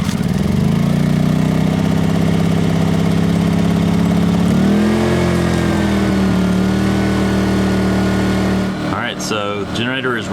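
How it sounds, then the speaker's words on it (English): An Atima AY2000i 2000-watt portable inverter generator hums steadily at close range with economy mode off, its pitch stepping up briefly midway, before the running tone breaks up near the end. "So the generator is running with economy mode off, about 57 decibels."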